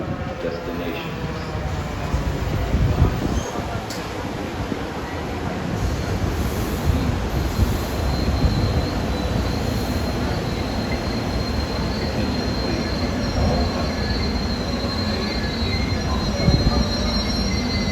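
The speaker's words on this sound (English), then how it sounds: "Trenton-bound local coming in." A SEPTA Regional Rail local bound for Trenton, train 725 from Chestnut Hill East, rolls in close by with a steady rumble and a thin, sustained high wheel squeal across the whole stretch.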